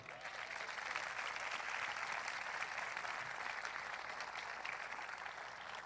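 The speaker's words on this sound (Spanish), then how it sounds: "Denle un aplauso fuerte." A church congregation applauds during a sermon, a dense, steady wash of many hands clapping that holds evenly throughout, somewhat distant and fairly quiet, with no one speaking over it.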